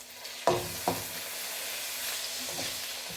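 Onions and tomatoes frying in a pan, a soft continuous sizzle with two sharp stirring knocks near the start and a few fainter scrapes later, and no talking.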